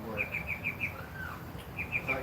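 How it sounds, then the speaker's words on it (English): Small birds chirp outside on a ranch, quick bright tweets repeating in two short bursts, faint and somewhat distant over a low background hum. "we don't usually hear the birds here"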